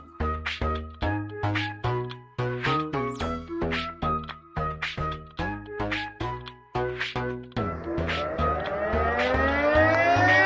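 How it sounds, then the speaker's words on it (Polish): A volunteer fire brigade's station siren in Łubiana, Poland, rises into a loud wail near the end, taking over from a steady, punchy rhythmic music beat. "Gdy syreno zawieje do remizy biegniemy"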